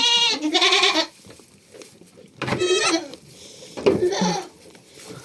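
Three loud goat bleats, close by, separated by short pauses.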